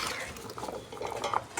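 Mango pieces being stirred into salt and chili for a Telangana-style mango and ginger pickle make a continuous soft, wet scraping and clinking in a bowl, close and fairly quiet, with no talking.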